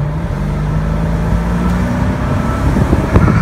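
A 2003 Mercedes-Benz SL500 roadster, V8-powered, accelerates hard from close by, its engine a loud steady rumble with a rising pitch and rougher bursts toward the end.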